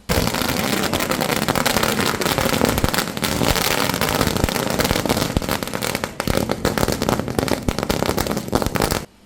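Firecrackers burst at a Siddheshwar market yard celebration of India's T20 World Cup win, a dense, loud, continuous barrage of cracks and pops for several seconds, briefly thinning before resuming.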